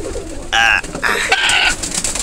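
A pigeon coos close by in two or three soft, throaty, rolling calls over a couple of seconds, alone without talk.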